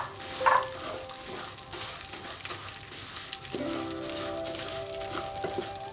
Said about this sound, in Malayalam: അതേ നെയ്യിലോട്ട് തന്നെ ഈ സേമിയ ഒന്നിടുകയാണ്.